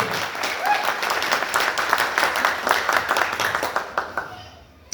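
Loud applause from a crowd at a company launch celebration, dense rapid clapping that holds steady, then thins and fades out near the end.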